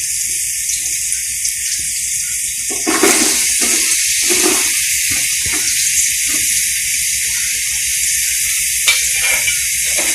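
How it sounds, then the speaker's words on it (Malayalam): Two large chopped onions, four green chillies and ginger-garlic paste sizzle in a pan for chicken mandi, a steady loud hiss with brief crackling flare-ups throughout. "ഇതെല്ലാം കൂടെ ഒന്ന് വഴറ്റിയെടുക്കാം."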